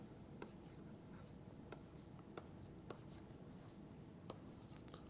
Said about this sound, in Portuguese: Então, vou escrever aqui.